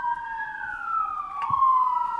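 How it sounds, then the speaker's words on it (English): Emergency vehicle siren passing close by, a steady wailing tone gliding slowly downward over a couple of seconds, fairly loud and alone with faint background. "And we got some sirens coming in."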